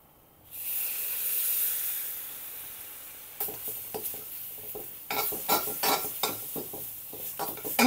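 Buttermilk is poured into roasted bhajani flour in a hot pan, starting with a loud hiss that eases into a quieter sizzle, followed by stirring scrapes and clinks of a spoon against the pan.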